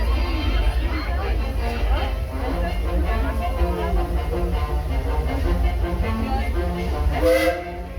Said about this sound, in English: The train just went past the gate.